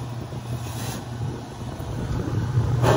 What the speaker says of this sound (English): I think that clattering is a little piece of this air filter.